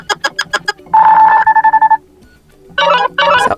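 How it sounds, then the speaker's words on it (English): Ringtone previews play on a Nothing Phone 2: close, clear synthetic beeps and tones in short rhythmic bursts, with a steady tone in the middle and brief gaps between patterns. "here you will notice a phone ringtone"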